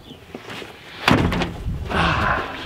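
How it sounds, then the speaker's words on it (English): A finished wooden door in an earthbag building, with quiet handling followed by a sharp shutting thunk and a latch or lock clatter, then rustling movement, fairly close and loud. "It now opens with the door handle, shuts and locks."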